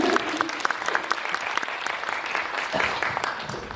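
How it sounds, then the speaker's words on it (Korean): Audience applause at a Korean film screening Q&A with actors and director, steady moderate clapping from a crowd, fairly close and sustained across the whole moment. "두 분의 대답에도 박수 좀 쳐주세요"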